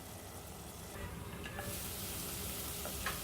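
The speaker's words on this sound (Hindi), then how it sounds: "बस इसी तरह से सब्जी को 1-2 बार और भून लेना है" Peas and potato sabji sizzles and fries in a pan, a dense continuous crackle that swells a little partway through, with faint scraping stirs, close and steady with no talk.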